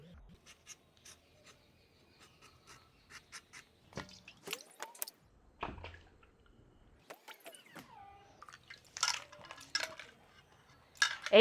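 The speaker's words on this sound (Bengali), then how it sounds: "তো আমি প্রথমে আমগুলোকে কেটে নিব।" Raw green mangoes for a spicy ginger-garlic pickle are cut with a knife, giving scattered close scraping and tapping strokes, faint at first and then louder and busier, with bowl clinks mixed in.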